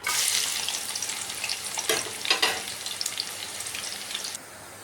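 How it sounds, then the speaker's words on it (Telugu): Onions frying in a pan for an Andhra-style fish curry, with cinnamon and cloves, give a steady bright sizzle. A few stirring clatters come mid-way, and the sizzle drops to a quieter hiss near the end. No one speaks. "ఉల్లిపాయ చూడండి ఇట్లా చక్కగా ఫ్రై అయింది"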